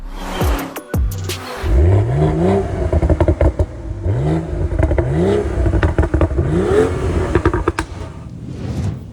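A BMW X3 M40i engine revs up repeatedly, rising in pitch several times in a row, loud and close, after a few clattering knocks at the start.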